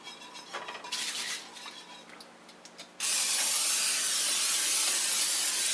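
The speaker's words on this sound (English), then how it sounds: "I'm going to spray both of these pans, prepare for the frying as I also turn on the heat" Pam canola non-stick cooking spray hisses onto two frying pans, starting with a few short sprays and then one long, loud, steady blast that continues to the end.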